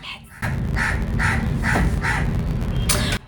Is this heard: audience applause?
no